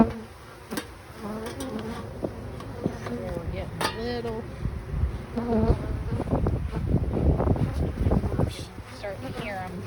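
A dense, steady buzz of many honeybees in a hive fills the background, growing louder toward the end, while a person talks over it.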